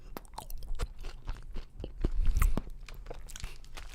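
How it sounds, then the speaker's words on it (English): Mukbang-style ASMR eating: close, crisp crunching and wet chewing bites repeat irregularly over four seconds, with a louder cluster of crunches in the middle and no talking. "I know people hate it, chewing sounds, so I'm gonna chew right on them"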